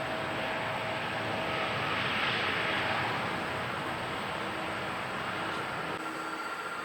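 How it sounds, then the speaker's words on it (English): An airliner takes off from a runway at Incheon Airport, its jet engine roar a steady, loud broadband rush that swells slightly and holds without a break, with no voices over it. "Vietnam 405, wind 265 knots, runway 34 right, clear for takeoff."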